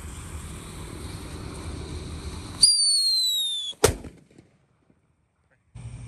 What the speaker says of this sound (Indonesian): Selanjutnya ini ada mercon whistling thunder.